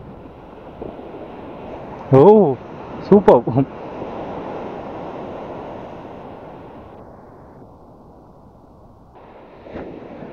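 Sea waves surging on Alleppey beach, a broad steady wash of surf and wind that swells and fades, briefly interrupted by short bursts of people talking nearby.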